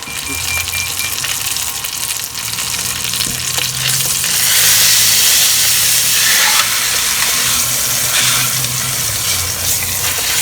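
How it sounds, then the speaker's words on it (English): A chuck roast searing in a hot pan gives a loud, dense sizzle that swells and hisses steadily, close by and uninterrupted by talk. "So this is how I sear the edges."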